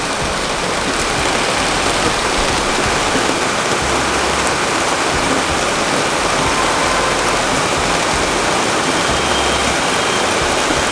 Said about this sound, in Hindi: बारिश देखो